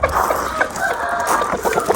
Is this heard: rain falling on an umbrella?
no